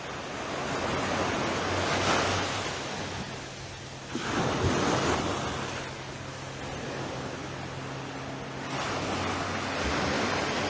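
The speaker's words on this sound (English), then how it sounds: "let's listen to the sea while we watch this guy come on by" Sea waves breaking and washing ashore on the west coast near Fitts Village, a steady broadband roar that swells in surges around four and nine seconds, with wind noise and no voices.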